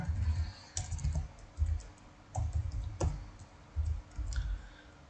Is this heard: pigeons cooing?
no